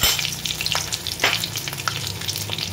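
Whole garam masala, dried red chillies and bay leaves sizzle steadily in hot oil while being stirred, a close, continuous crackle with brief spatter bursts throughout.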